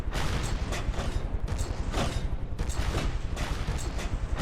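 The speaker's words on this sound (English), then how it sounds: "Now we're going to start firing our side cannons to get our broadside going." Side cannons on a rotor-blade-driven craft fire a broadside in the game From the Depths, a dense, rapid barrage of overlapping booms rolling continuously at close range.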